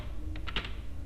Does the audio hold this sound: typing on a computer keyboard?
yes